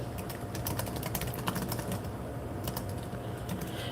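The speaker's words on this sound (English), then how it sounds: "I'm typing it in the chat" Steady, quiet typing on a computer keyboard, a continuous stream of soft key clicks with no voices.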